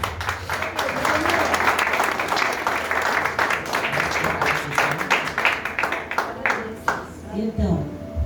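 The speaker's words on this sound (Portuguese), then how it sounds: "Palmas para Jesus, irmão." A church congregation applauds continuously, with dense overlapping clapping that carries on for several seconds as voices call out underneath.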